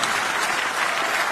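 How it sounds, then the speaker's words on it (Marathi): Dense, steady applause from a large audience at a spoken poetry performance, continuous and loud throughout with no pauses or individual claps standing out. "ज्याला ज्याला बायको आहे त्यांनी टाळ्या वाजवा"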